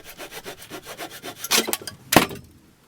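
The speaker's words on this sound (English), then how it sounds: "sawing through timbers and knocking holes in the walls" Hand saw cutting through roof timbers in a house loft, a steady run of rhythmic back-and-forth strokes followed by two louder, harsher rasping bursts near the end, close by with no talking.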